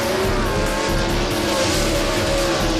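Race cars roar around a raceway track with loud, continuous engine noise and tire sounds, close and dense, with no voices heard.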